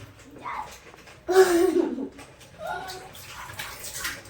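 A short splash of water as a face is washed, with a brief quieter rinse afterward and soft background noise.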